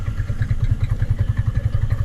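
A motorcycle engine runs steadily as the rider shifts into second gear and eases the clutch out, a close, even low throb with rapid regular pulses and faint clatter throughout.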